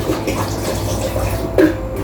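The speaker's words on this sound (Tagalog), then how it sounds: "Tayo ay maglalagay ng tubig ngayon" Water pours steadily into a container at home, a continuous close splashing rush with a brief louder gush near the end and no talking.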